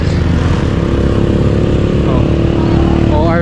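Motorcycle engine laboring up a steep slope on Mount Parawagan, a close, loud, steady buzzing drone with people talking over it.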